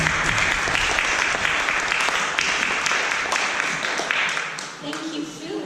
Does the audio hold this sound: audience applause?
yes